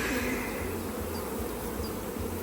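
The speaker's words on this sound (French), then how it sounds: "je sais pas si vous voyez le nombre d'abeilles qu'il y a là" Dense, steady buzzing of many honeybees fills a crowded Mini Plus hive, a close, continuous hum with no voices over it.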